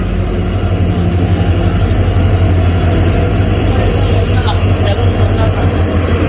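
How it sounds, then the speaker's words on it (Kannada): A train pulls in at Arsikere railway platform, a loud continuous rumble of wheels and carriages with faint squealing, steady throughout and close by. "ಟ್ರೈನ್ ಬರ್ತಾ ಇದೆ."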